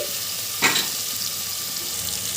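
Chopped tomatoes frying in oil in a pan with onions, a steady close sizzle with one brief stirring scrape partway through, no voices.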